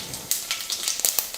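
Mustard seeds and cumin sizzle in hot oil in a heated kadai, heard as a short burst of close, crackling pops and hissing spatter.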